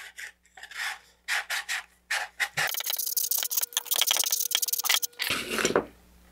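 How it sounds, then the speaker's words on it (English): Sandpaper rubbing back and forth over the inside edge of a cardboard model rocket body tube, a run of short rasping strokes followed by a dense, sustained scraping burst up close. "we're just gonna take some sandpaper and sand that down"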